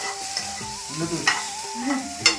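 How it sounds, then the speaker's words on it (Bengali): Noodles cooking in a pan at home, with a spatula scraping and stirring in irregular strokes over a steady low sizzle. Several sharper clinks sound near and moderately loud, and no one speaks. "নুডলস রান্না হচ্ছে নুডলস"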